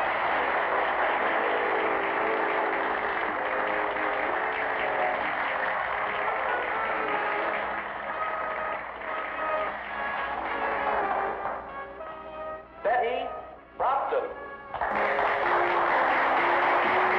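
Audience applause for finalists at a beauty contest, a dense sustained wash of clapping with music mixed in, dipping briefly near the end before resuming at full strength.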